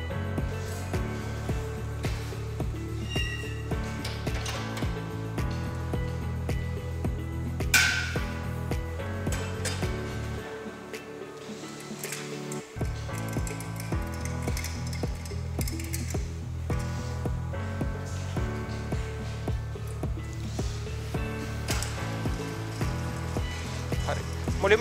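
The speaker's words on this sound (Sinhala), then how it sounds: "මුලින්ම ඩ්‍රයි ඉන්ග්‍රීඩියන්ට්ස් ටික විතරක් අපි වැද්දවීම කරනවා ලෝ ස්පීඩ් එකේ" A stand mixer in a pastry and bakery kitchen blends dry ingredients of sugar, yeast and flour at low speed, giving a steady whirring hum with light clinks that dips briefly before resuming.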